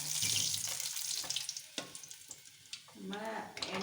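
Food frying in hot oil with a steady close sizzle, broken by a few sharp utensil clicks as the pieces are turned over, then the sizzle swells again.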